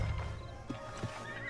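An Arabian horse in Red Dead Redemption 2 gives a short, close neigh with soft clip-clop hoof sounds, a brief whinny over a low background hum.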